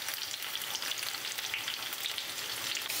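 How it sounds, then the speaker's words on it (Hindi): Drumstick pods (sahjan) frying in a pan make a steady, dense sizzle with faint crackles, close and continuous, with no voices. "सजनी की फली डालने के बाद मैंने 2 से 3 मिनट के लिए फ्राई कर लिया।"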